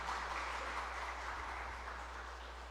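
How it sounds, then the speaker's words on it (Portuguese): A church congregation applauding during a Portuguese-language worship service, a steady, diffuse wash of many hands clapping at moderate distance, continuous throughout with no voices heard. "Vamos aplaudir ao Senhor por isso mais uma vez."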